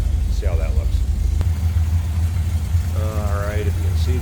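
A 1972 MG MGB convertible's 1.8-litre inline engine idles with a steady, close, low rumble throughout, while someone talks briefly over it.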